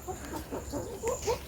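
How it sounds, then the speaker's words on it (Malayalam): A hen clucks in short, soft bursts close by, several quick calls spread across the moment with faint background noise and no talking. "ഒച്ച കണ്ട, നല്ല ഒച്ചയാണ്. പാവം ചക്കരക്കുട്ടൻ കോഴിയാണ്."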